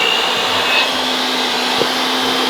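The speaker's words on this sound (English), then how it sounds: "Now we take a hand mixer and we mix the butter and the sugar." Electric hand mixer beating butter and sugar in a big bowl, a steady close whirring hum throughout with no talk.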